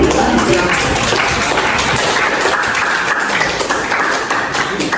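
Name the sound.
audience clapping hands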